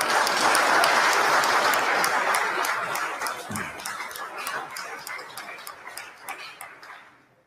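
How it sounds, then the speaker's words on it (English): Audience in a parliamentary chamber breaks into loud applause, a dense wash of clapping with a few sharper claps standing out, gradually thinning and fading over several seconds. "Why are you applauding that?"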